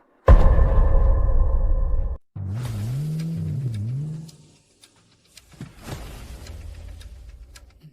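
A car engine revs hard and loud, then drops, winds up again in wavering surges and fades off into the distance, with scattered rustles and faint background sound afterward.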